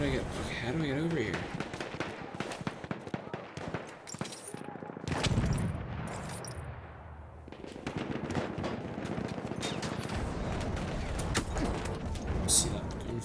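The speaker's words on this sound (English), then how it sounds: "See that gunfire?" Rapid bursts of Battlefield 1 multiplayer gunfire crackle almost continuously, dense and loud, broken by a brief lull midway, with a player talking over the shooting.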